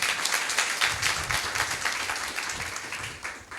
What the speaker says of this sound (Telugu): గట్టిగా చప్పట్లు కొడదాం దేవునికి